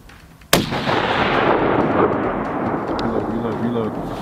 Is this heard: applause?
no